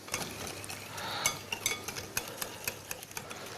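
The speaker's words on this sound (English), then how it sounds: "and give those a whisk." A whisk beats warm water, sugar and vanilla extract in a bowl, giving quiet, close, irregular metallic ticks and light swishing strokes.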